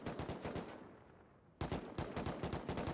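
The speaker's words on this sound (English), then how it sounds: "Again, you hear the gunshots they're trying." Gunfire in the survival game Rust during a 4v4 base-raiding tournament, rapid automatic bursts of sharp shots, a short pause, then another fast string of shots, fairly close and loud with no talk.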